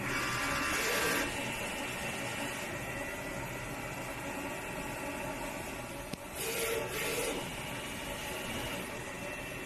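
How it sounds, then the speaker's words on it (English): A DTF printer running a vertical calibration print gives off a steady mechanical hum and whir that continues throughout, with a brief louder shift near the end and no speech. "Then the printer starts to print out a vertical calibration picture out."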